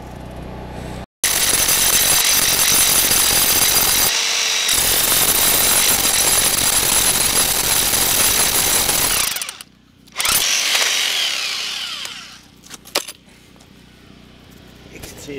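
Rotary hammer drill with a steel carbide tip boring into granite on a construction site, a loud, dense rattling hammer-and-grind that runs steadily for several seconds, then stops and restarts briefly in shorter bursts.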